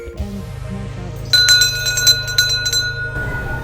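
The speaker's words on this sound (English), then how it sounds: "What makes the Nakasendo quite fun is the presence of bear bells along the way." A bear bell on the Nakasendo trail in Japan's Kiso Valley rings with bright metallic clinks and sustained pings. Several strikes come close together over a low hum, then the ringing fades.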